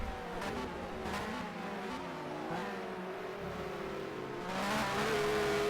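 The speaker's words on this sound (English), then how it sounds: "listen to this beautiful engine" A 1996 British Touring Car Championship car at Thruxton roars steadily from onboard through a lap, its engine note holding high and swelling louder near the end, with no talk over it.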